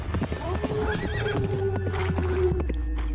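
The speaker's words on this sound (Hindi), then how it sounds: "घोड़े पर सवार होकर ज्ञानचंद दूसरे राज्य की सीमा में चला गया" Cartoon-style horse galloping effect: a steady clip-clop of hooves with a whinny riding over it, loud and close, running continuously through a busy mix of layered effects.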